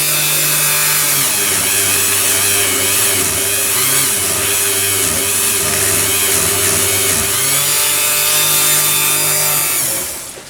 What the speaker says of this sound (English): So what I do is just run the Dremel up and down that thread.